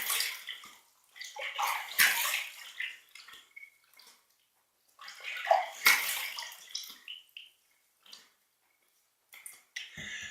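Running water rinses a freshly shaved face in two splashy bursts of a few seconds each, with cupped-hand sloshing and dripping between them and a short splash at the end, all close and without talk.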